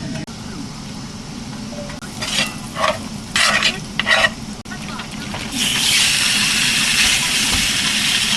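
Steak sizzles in a pan with garlic butter and rosemary, a steady frying hiss with clattering stirs and scrapes in the middle, swelling to a louder, brighter sizzle toward the end, heard close up.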